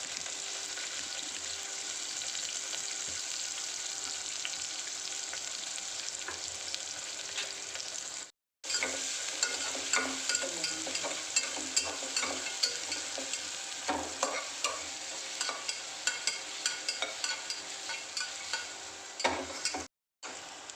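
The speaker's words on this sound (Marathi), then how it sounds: "कांदा टोमॅटो भाजून झालेला आहे लाल" Onion, chili and tomato fry in a pan with cashews, giving a steady close sizzle broken by scraping stir strokes, with two brief pauses.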